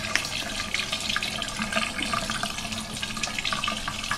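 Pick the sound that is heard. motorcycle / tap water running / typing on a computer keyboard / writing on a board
tap water running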